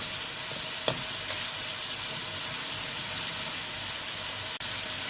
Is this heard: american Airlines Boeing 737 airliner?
no